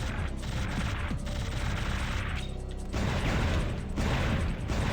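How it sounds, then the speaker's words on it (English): A rapid-fire cannon blasts continuously in the PS1 shooter Einhander, a dense stream of gunfire bursts with brief dips, loud and unbroken by voices. "This is where the cannon is really handy, because this thing just eats through this stuff."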